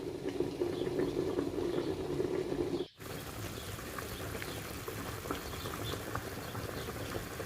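Stuffed peppers simmering in a loosely covered pot, a soft, continuous bubbling and pattering close by, briefly cut out for a moment before resuming quietly and steadily.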